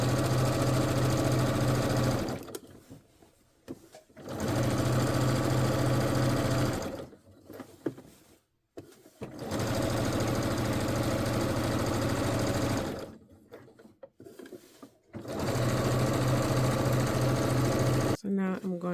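A domestic sewing machine stitching seams on a Vogue 9292 garment, running in steady whirring bursts of a few seconds each, separated by short pauses with handling noises, loud and close.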